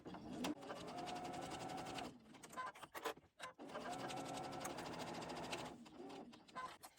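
A sewing machine stitches a fabric bookmark in two steady runs of rapid, close mechanical whirring, broken by a brief pause with a few clicks and then a short final stretch of stitches.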